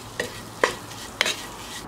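Prawns fry in coconut oil in a pan, a soft sizzle underneath three distinct stirring scrapes spaced evenly about half a second apart, close by and with no voices.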